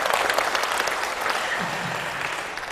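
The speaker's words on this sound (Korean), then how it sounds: "주님께 약속의 박수를 한번 올려보세요" Church congregation applause, a dense burst of many hands clapping together at close range, steady throughout.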